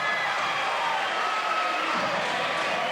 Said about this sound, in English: Listen to the Scotus crowd